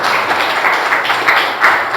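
A church congregation claps together in steady, dense applause that carries across the whole moment, with occasional louder swells.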